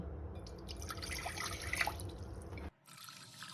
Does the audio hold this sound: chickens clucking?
no